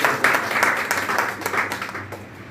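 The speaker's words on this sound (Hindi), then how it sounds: "इनके लिए जोरदार तालियां।" A crowd applauds, a dense rattle of many hands clapping that gradually tapers off.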